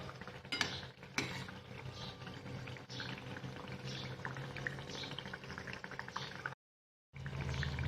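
Potato bhaji sizzle and bubble as they deep-fry in hot oil, a dense, steady crackling hiss with occasional sharper pops, close up, broken by a brief cut to silence near the end.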